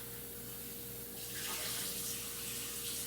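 Cucumbers for sour dill pickles rinsed under a running tap, a steady close hiss of flowing water that swells louder after the first second and continues throughout, with no talking.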